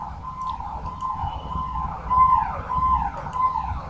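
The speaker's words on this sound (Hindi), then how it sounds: "यार इधर दिल्ली में पुलिस की गाड़ी बहुत चलती है" A police car siren wailing on a street in Delhi, a steady rising and falling tone over low traffic rumble, growing louder as it passes.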